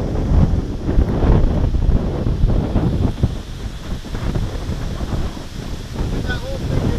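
Strong wind buffets the microphone on a backpacking trail in Letchworth State Park, producing a loud, continuous low rumble that swells and eases without break.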